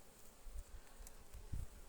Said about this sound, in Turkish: gelmediği için arılar hırçın